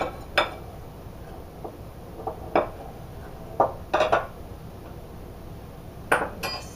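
A spoon scrapes and clinks against the side of a bowl while flour is worked into sticky no-knead skillet bread dough, in a few scattered clanks with quiet pauses between them.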